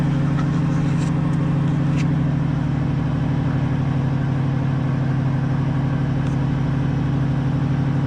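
An Oldsmobile 442 engine runs after sitting outside for nine years, a loud, steady idle with a deep even rumble and faint mechanical ticks, heard alone from close by.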